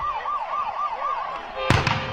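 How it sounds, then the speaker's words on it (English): Celebration cannon fired after a Carroll College playoff football win in Helena: a warbling siren-like tone, then a single sharp, loud blast with a brief ringing tail. "Cue up the cannon."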